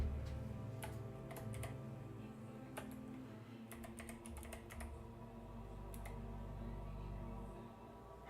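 Steady typing on a computer keyboard, with irregular bursts of close, crisp key clicks over a low background hum and no speech.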